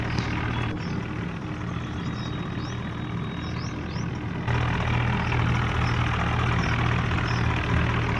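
A tractor engine in a farming video game idles steadily on its own, a continuous low drone that grows slightly louder partway through, with faint high chirps near the start.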